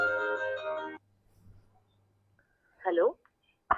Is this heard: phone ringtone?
yes